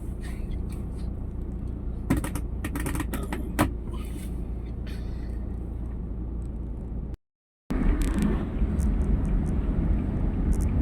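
Steady low road rumble of traffic heard from inside a car in slow traffic near Estrella and Guadalupe, with faint creaks and clicks, a brief dropout to silence, then the hum resumes.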